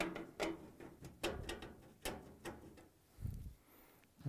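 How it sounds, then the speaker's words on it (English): Phillips screws being removed from the main control board of a Samsung dryer, heard as a string of close, sharp clicks and ratcheting ticks at irregular intervals, with a few soft thuds toward the end and no talking. "Now we can take the three Phillips screws out and free the main control board."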